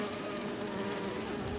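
Bee wolves in the Spider-Man 2 video game buzzing, a dense, continuous insect drone close up, steady in loudness throughout.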